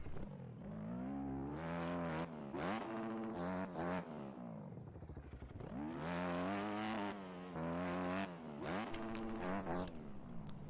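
A video-game motorbike races around a heavily rutted dirt track, its engine rising and falling in repeated revving sweeps as it accelerates and shifts, continuous and fairly close.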